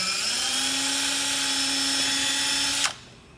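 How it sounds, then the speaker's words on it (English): A cordless drill with a 1/8 inch bit whines steadily while boring a pilot hole in a car body panel for mounting points. It runs close and alone at a constant pitch for nearly three seconds, then stops abruptly. "Just drill a pilot hole."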